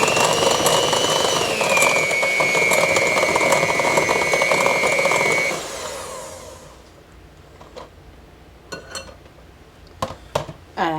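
Cake batter being whisked with an electric mixer: a loud, steady whirring hum that runs about five seconds and then stops, leaving quiet with a few faint clinks and taps.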